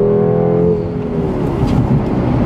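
A 2014 Jeep Grand Cherokee SRT accelerates hard from 0 to 60 mph, its engine note rising steadily in pitch, loud and close from inside the cabin, with no talk over it.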